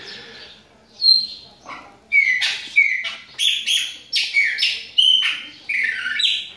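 A viúva bird sings a series of bright, whistled chirps and short trilled phrases at close range, repeated in quick bursts with brief gaps between them.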